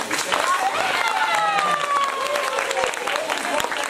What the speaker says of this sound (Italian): Applauso per la prima frase.